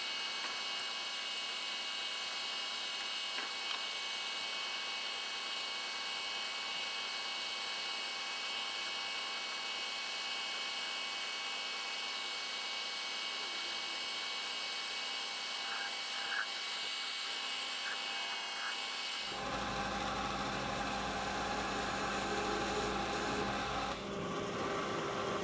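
Lathe boring out the last section of the bore in a Cummins Horton fan pulley, a steady machine hum with faint scraping of the cutter; the tone shifts abruptly near the end as the cut changes.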